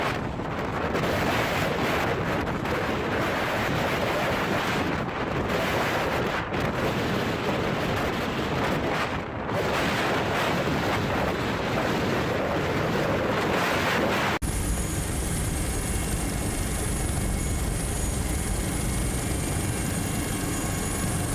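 Storm waves and howling wind at sea around a large Dutch-flagged fishing vessel with a 5,162-ton load capacity, a dense, continuous roar of surf and gusts that shifts to a steadier, tonal rumble near the end.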